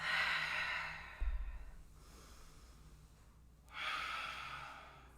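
Two slow, deep breaths during a yoga flow, each a soft, close airy exhale with a quiet inhale between, heard alone without talking.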